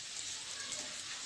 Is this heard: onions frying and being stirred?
yes